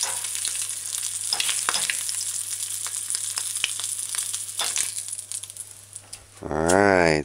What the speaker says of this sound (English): The sizzling of the ham frying should get less.